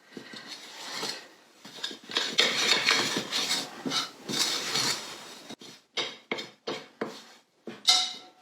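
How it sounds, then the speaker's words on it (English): Spoon scraping and clinking against a bowl while pizza dough ingredients are stirred together, a steady busy rattle that breaks into separate knocks toward the end. "now we're going to mix it all together. Do it with a spoon first"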